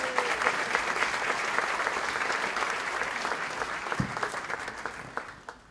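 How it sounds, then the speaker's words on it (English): A room full of people at a State of the City breakfast event applaud as the city manager comes to the stage, a broad steady clapping that slowly fades toward the end. "please join me in a round of applause"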